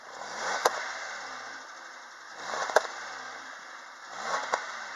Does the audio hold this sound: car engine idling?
yes